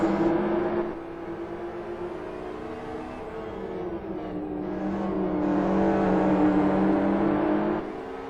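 Race cars in Gran Turismo sweep through a complex of turns during an amateur league race, engines humming and whirring steadily with rising and falling pitch as they brake and accelerate through the corners, heard alone without talk.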